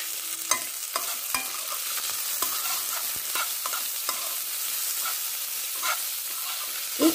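Silkworm pupae fry in a pan with salt and turmeric, giving a steady close sizzle with scattered scraping stir clicks throughout and no voices.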